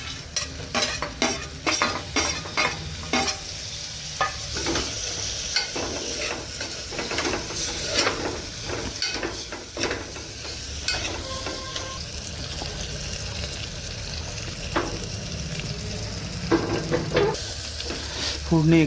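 Green onions are stirred into a sizzling spiced tempering, with repeated scraping spatula strokes in irregular bursts over a steady frying sizzle, close and moderately loud.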